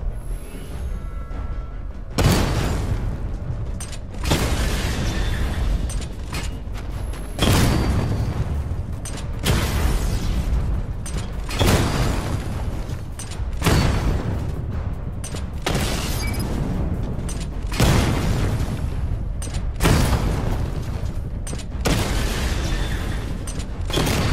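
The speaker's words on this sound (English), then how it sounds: "Charge the missile barrage to level 2 to destroy up to 4 targets at once." Barrage of missile explosions in a Batman video game, heavy booming blasts arriving in repeated waves every few seconds, loud and dense with rumbling low end and mechanical clatter between bursts.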